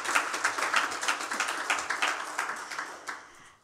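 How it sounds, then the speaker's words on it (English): A church congregation applauds during a Sunday service, the individual claps distinct and fairly close, then tapering off and fading out at the end. "Let's get another round of applause"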